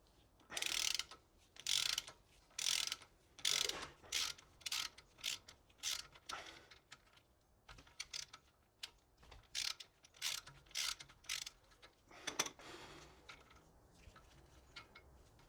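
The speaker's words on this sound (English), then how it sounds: "we're going to take a 14mm socket and we're going to undo the 6 nuts that hold the hub" A ratchet with a 14mm socket clicks in quick bursts while undoing the hub flange nuts on a Toyota Landcruiser 100 Series front hub, a close series of short rasping ratchet runs separated by brief pauses.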